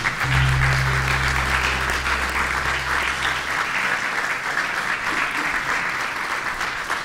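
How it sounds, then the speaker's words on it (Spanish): A church congregation applauding, dense steady clapping from many hands filling the room at a loud, even level, with a low organ or keyboard tone held underneath at the start. "Le damos un aplauso al Señor."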